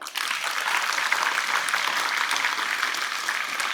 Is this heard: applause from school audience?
yes